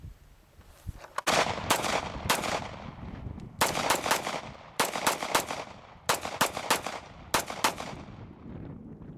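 Sig pistol, a reliable handgun suited to saltwater use, fired outdoors in a string of loud, sharp shots, mostly singles and quick pairs spaced about a second apart, each with a short echoing tail.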